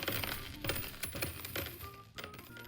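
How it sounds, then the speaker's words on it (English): Coins drop into a bucket in a quick scatter of clinks and metallic taps, close and fairly quiet, with no talk. "He heard only a few coins drop into the bucket."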